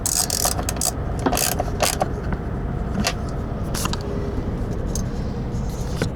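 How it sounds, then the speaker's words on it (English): Rapid ratchet clicking while the three nuts on a truck fog light are tightened during a fog light swap on a Freightliner Cascadia, close and steady, bursts of sharp ticks over a continuous mechanical rattle. "Okay, so you're tightening all 3 nuts."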